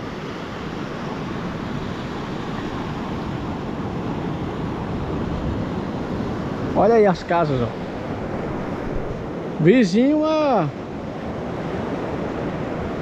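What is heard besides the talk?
sea waves at Baía Formosa beach, Rio Grande do Norte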